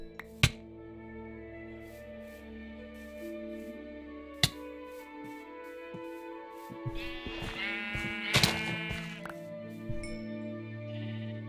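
Sheep bleating in the video game Minecraft: a few wavering bleats heard clearly over sparse game music and sharp clicks, with a denser burst of sounds midway.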